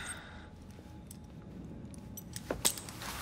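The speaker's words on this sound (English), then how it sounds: "Now hand over your keys." Keys jingle in the video game Assassin's Creed Syndicate, a brief metallic jangle near the end rising out of quiet ambient room noise.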